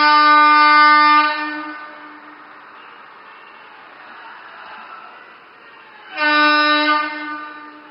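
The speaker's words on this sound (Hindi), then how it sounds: "नई दुल्हन की तरह सजी ये रेल अपनी पहली यात्रा के लिए तैयार है" A train decorated for its inaugural run on the Una–Amb Andaura to Ambala rail service sounds a loud, steady horn blast, fading into low rumbling, then blows a second long blast. No speech is heard.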